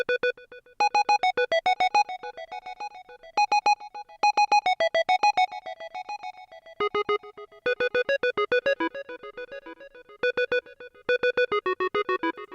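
A bright, buzzy square-wave synth plays a short, simple stepped melody in quick repeated notes for a pluggnb beat, grouped into bursts with brief gaps, clean and alone without any voices.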